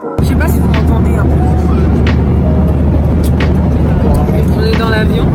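A loud, steady low-pitched drone of an airplane cabin in flight runs throughout, with people talking over it.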